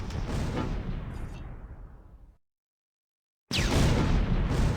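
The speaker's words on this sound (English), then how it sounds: "The Russian mortar near the bridge is still firing." Russian mortar fire in the World War II strategy game Close Combat 3, near a bridge on the Russian Front: a loud booming blast that rumbles and fades, a sudden stretch of silence, then another heavy, roaring detonation close by.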